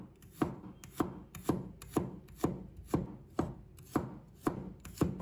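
Garlic cloves sliced with a knife on a cutting board, about a dozen evenly spaced, crisp chopping taps in a steady rhythm, close and clear with no voices.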